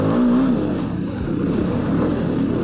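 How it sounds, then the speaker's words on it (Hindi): A loud, raspy scooter with an aftermarket exhaust revs and burbles nearby, its throttle rising and falling in a steady growl. "तगड़ी आवाज़ है स्कूटी की यार"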